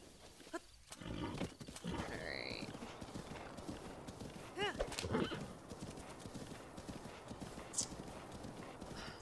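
Horse in the game The Legend of Zelda: Breath of the Wild, with steady clip-clop hoofbeats and several bright whinnies rising over them, while a person talks now and then in the foreground.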